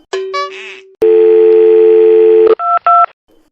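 Electronic telephone tones: a few quick dialing beeps, then a long steady tone, followed by several short beeps, loud and close.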